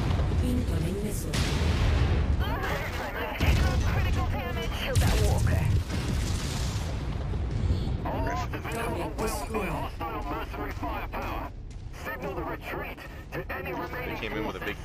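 Laser and missile fire from battling mechs in the MechWarrior 5 video game, loud booms and mechanical weapon blasts that run continuously under voices talking over the action.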